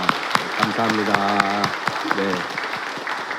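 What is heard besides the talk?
congregation applause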